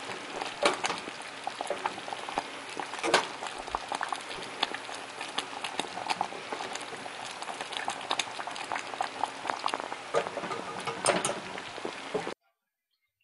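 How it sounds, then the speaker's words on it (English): Gravy simmering gently in a pan over low heat, a steady soft bubbling and crackle that runs evenly for about twelve seconds before cutting to silence. "we're going to turn the heat down so your gravy can continue to cook"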